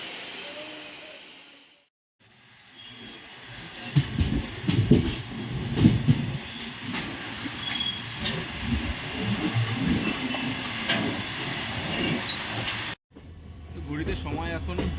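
The Kolkata–Puri special train runs into Puri, giving a continuous rumble and clatter of rail cars with intermittent knocks, and voices murmur underneath. A brief dropout comes near the start and again near the end.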